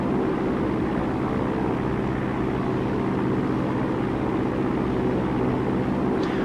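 Steady, loud drone of a light aircraft engine at full throttle on takeoff in a flight simulator, a constant dense roar with no break and no voices.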